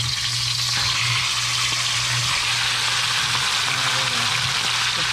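Tilapia frying in hot oil, a loud, close, continuous sizzle with fine crackling spatter over a low steady hum.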